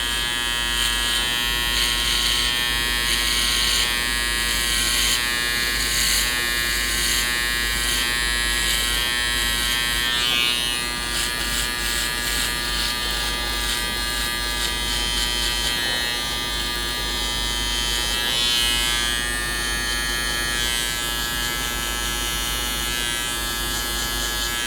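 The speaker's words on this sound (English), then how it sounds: "we're going to follow that by using a foil shaver to board out the bottom part" Foil shaver buzzes steadily and close throughout, a continuous electric drone shaving hair at the bottom of a skin fade, with slight shifts in tone as it moves across the head and no talking.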